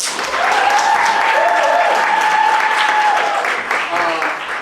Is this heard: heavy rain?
no